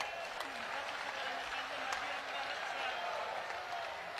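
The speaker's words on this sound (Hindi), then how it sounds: "यदि आपको अनुकूल हो तो ठीक से ताली बजाइए।" A large crowd applauds at a Hindu religious gathering during a pilgrimage march. The clapping is a steady, dense wash that sounds somewhat distant and continues without a break, with faint voices underneath.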